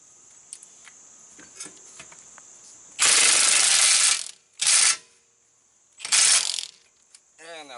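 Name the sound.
powerful impact gun with Harbor Freight wobble extension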